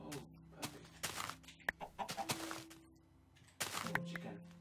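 A chicken in Minecraft gives a few short clucks among blocky thunks and game sounds, with a person talking over parts of it.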